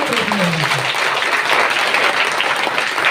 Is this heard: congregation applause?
yes